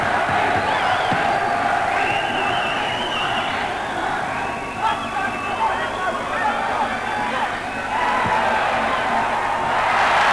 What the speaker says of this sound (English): Listen to this crowd. They're going berserk for Tony Hill.